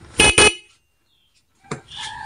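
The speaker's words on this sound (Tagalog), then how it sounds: "tutunog yung ating stock horn" Two short car horn honks in quick succession, loud and close, followed by silence and then some faint mechanical noise.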